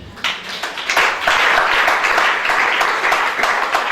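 A church congregation claps and applauds together in acclaim of Shaddai, a dense sustained wash of hand claps that swells within the first second and stays loud and steady to the end.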